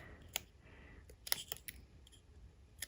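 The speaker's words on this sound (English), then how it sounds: "cut some little pieces out, little V-cuts" Scissors snipping small V-shaped notches into folded cardstock for a paper pumpkin craft, a few quick, crisp separate cuts, close and fairly quiet.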